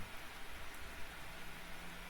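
Soft, steady rain hisses in the video game Mount & Blade: Warband, an even, faint wash with no breaks or other sounds.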